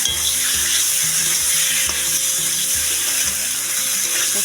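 Boiled eggs and potatoes go into a pan of fried spice masala for a Bengali egg curry, setting off a loud, continuous close sizzle and frying crackle, with stirring scrapes throughout.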